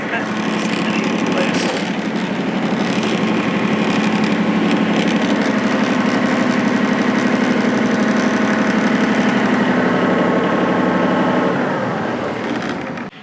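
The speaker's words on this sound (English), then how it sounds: "here's the tiny little 3-cylinder diesel that powers this thing" A small original three-cylinder diesel engine on a Kubota F-Series mower runs steadily at idle, close and loud, with a constant low throbbing drone throughout.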